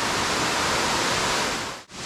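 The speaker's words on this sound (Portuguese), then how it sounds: "É a cachoeira Salto do 60 aqui em Botuverá, no bairro 60" Salto do 60 waterfall in Botuverá, bairro 60, roars as a dense, constant broadband rush close by, steady throughout with one brief dip near the end.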